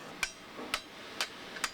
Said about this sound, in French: À l'aide d'un marteau et d'un segment de ferraille qui remplace l'enclume, cet homme pratique un type particulier d'activité de forge.